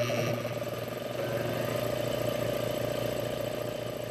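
Two loud compressors run nearby, producing a steady, continuous mechanical drone with a low hum and rattling texture that holds level throughout, with no talk.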